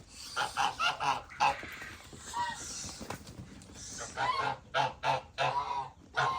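Several geese honk in repeated loud calls at close range, overlapping in irregular bursts.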